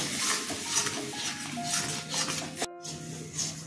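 A spoon stirs a paste of ground raw green banana peel in a pan, scraping and clinking against the metal with a soft sizzle underneath, steady and close throughout.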